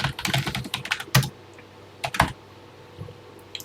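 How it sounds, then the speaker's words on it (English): Typing on a TI-99/4A home computer keyboard, a quick flurry of close key clicks followed by a few separate heavier keystrokes with short pauses between them. "let's go ahead and type this new program in"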